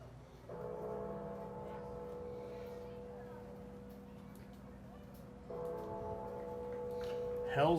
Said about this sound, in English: He's ringing the bell.